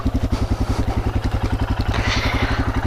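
A Royal Enfield Himalayan single-cylinder motorcycle idling on a UK trail ride after a jump start, a close, loud, steady rhythmic thumping pulse throughout.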